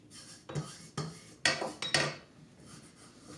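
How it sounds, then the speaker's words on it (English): A spatula scrapes and stirs flour into the bowl of a KitchenAid Artisan Mini stand mixer, giving several short, close scraping knocks against the bowl at irregular intervals. "I'm going to get a spatula and just mix that in"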